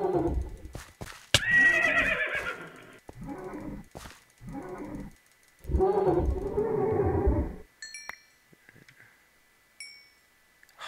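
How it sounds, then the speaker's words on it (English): Minecraft horses neigh and whinny in repeated bursts, interspersed with low mooing-like calls and a few sharp clicks, then fade to faint game tones near the end. "What the fuck are these horses doing here?"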